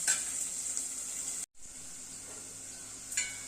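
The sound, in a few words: vegetables frying in oil in a pan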